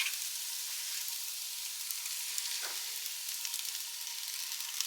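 Beaten eggs poured over ramen noodles fry in a pan, giving a steady, close hiss of sizzling with a faint stir partway through and no talking.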